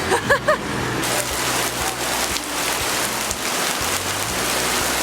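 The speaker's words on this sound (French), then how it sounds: "Et bah on a la première pluie." Heavy monsoon rain in northern Vietnam pours steadily onto surfaces, a dense hiss throughout, with a few brief sounds at the start and passing traffic beneath.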